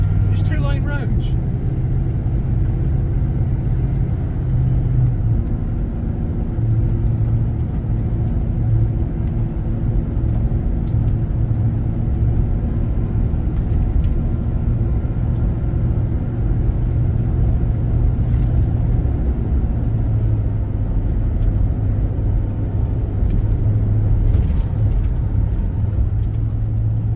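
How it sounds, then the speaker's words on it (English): Steady car and truck traffic on two-lane roads near Cartersville, Georgia, heavy with logistics trucks and high school cars, forms a continuous low engine rumble throughout, with someone talking over it. "You got all of this logistics traffic. These 2-lane roads."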